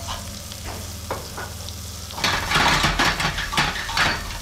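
Finely chopped onions go into a hot pan for sautéing beside pan-seared duck, a soft sizzle bursting into loud, close frying with scraping and clinks as they are stirred.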